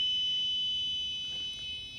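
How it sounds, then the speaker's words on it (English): A car alarm sounds after a wrong passcode entry, a steady high electronic tone holding continuously and fairly loud, with no other sounds around it. "now you can see the alarm's going off because the thief doesn't know the passcode"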